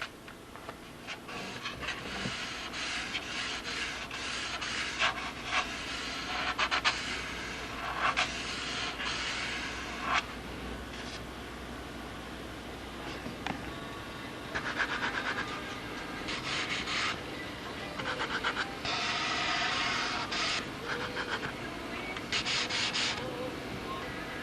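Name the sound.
sanding model aircraft wing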